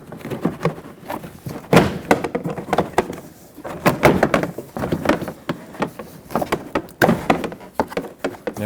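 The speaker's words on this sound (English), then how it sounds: "And now it's just a matter of popping the door panel off." Door panel being popped off a 1998-2011 Ford Ranger extended cab, a series of close, irregular plastic knocks, clunks and snapping thuds with short gaps between them.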